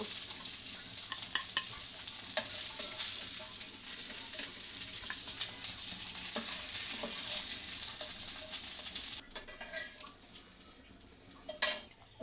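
Steady sizzling of chicken frying in hot oil in a pan, with occasional clinks of a utensil against the pan.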